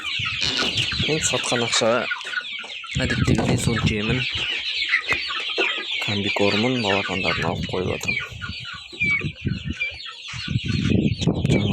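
Roosters of Kuchinsky Jubilee and Australorp breeds cluck steadily and loudly up close in a farmyard, with someone speaking over them throughout.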